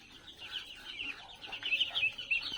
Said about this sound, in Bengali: এগুলো হচ্ছে চীনা হাঁসের বাচ্চা